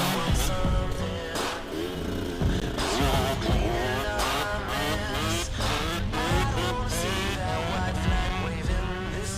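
A toy motocross motorcycle plays loud, continuous engine and racing sound effects with busy rhythmic hits throughout, no talking over it.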